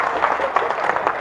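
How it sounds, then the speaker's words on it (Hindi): Applause and clapping from an audience at a Haryanvi stand-up comedy show, a dense, steady patter of many hands lasting about a second. "तालियां बजाओ साहब एक बार जोरदार मिलके।"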